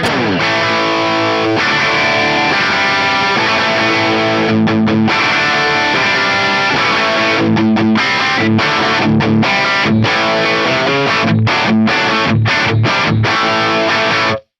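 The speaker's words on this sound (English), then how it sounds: "I love the compulsion distortion as well into a Vox-style amp." Electric guitar through a compulsion distortion model into a Vox-style amp plays chugging chords and riffs with heavy overdriven distortion, loud and close, with brief stops between phrases.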